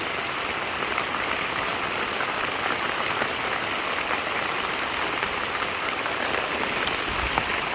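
Heavy rain pours steadily onto a bitter gourd farm, a dense, continuous hiss of drops that stays loud and unbroken throughout.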